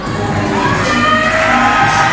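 A wrestling event crowd cheers and shouts loudly in a sustained roar, close and full, with whoops rising through the mass of voices.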